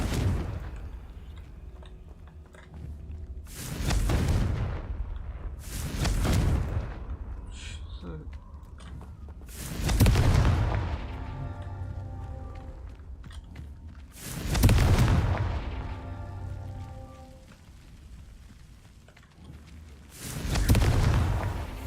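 Fire-spell explosions in the game Hogwarts Legacy: five loud booming blasts at roughly five-second intervals, each swelling and decaying over a low rumbling background.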